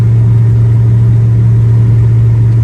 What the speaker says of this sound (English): He said really strong running engine.